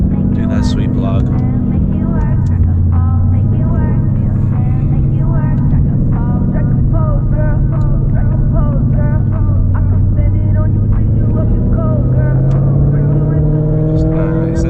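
A car running on E85 fuel accelerates steadily up to about 4,000 RPM, the engine note rising smoothly and loud throughout, with a person talking over it.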